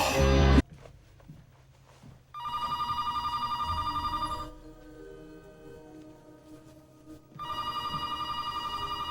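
A telephone rings in two long electronic bursts with a quieter gap between them, the second burst beginning after a pause, inside a tense horror-film scene.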